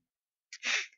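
A single short, sharp sneeze lands close on a microphone after a moment of silence, breathy and bright, lasting under half a second.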